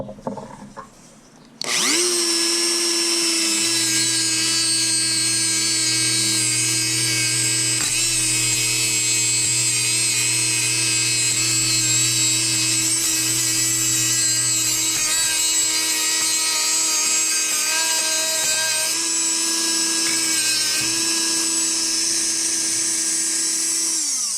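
An angle grinder cutting through steel wire rope cable, running as one loud, steady high whine for about twenty seconds after a brief quiet start, with slight shifts in pitch as it bites.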